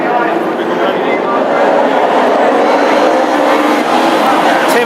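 Classic hot rod race cars thunder down the back straight at a Northampton oval race, a dense continuous engine roar with wind-like rush, loud and sustained throughout.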